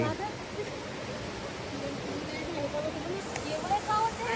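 The Kirama Oya river runs over rocks, a broad constant rushing roar, fairly close and steady, with faint talk in the background.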